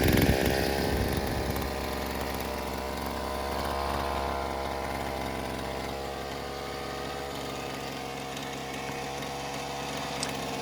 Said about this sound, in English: Sounds a little bit chuggy because it's only just started up, still cold, even though it started without the choke.